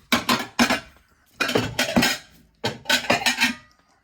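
Plates and cutlery clattering and clinking in a kitchen, loud close bursts of handling in three clustered groups separated by brief pauses.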